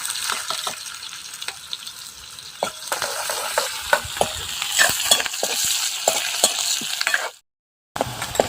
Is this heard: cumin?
yes